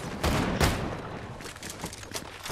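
Gunshots in the video game Fortnite: a couple of sharp loud shots up front followed by scattered quieter bursts of gunfire and rumbling in the background, no talk.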